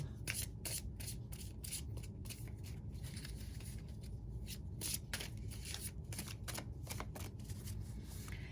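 Dark Angels Tarot cards being shuffled by hand, a continuous papery riffle of quick, close slaps and rustles that keeps an even rhythm throughout, with no voices.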